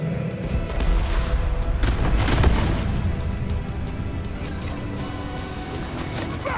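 Deep Rock Galactic game explosion: a sustained low rumbling blast that swells over a couple of seconds and fades into a lingering, steady noisy wash.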